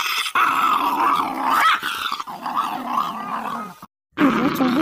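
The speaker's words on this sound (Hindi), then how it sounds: "तो वहाँ एक कुत्ता उसे मिलता है" A dog growls low and continuously in a spooky Hindi horror story setting, the rumbling sustained for several seconds, cut by a brief silence, then resuming loudly close up.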